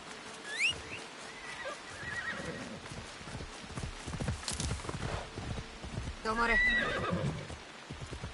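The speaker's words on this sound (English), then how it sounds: "What's that horse?" A horse neighs and whinnies twice in Assassin's Creed Shadows, the calls rising over steady clip-clopping hooves, while a person talks through much of the scene.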